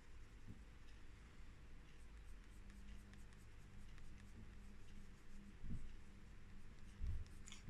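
Faint, repeated scratching of colored pencil strokes on paper, soft and close, with a few louder taps, in a quiet room.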